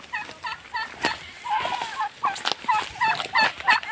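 Several turkey hens gobble and chirp repeatedly close by, with rapid overlapping calls and a few sharp knocks in between.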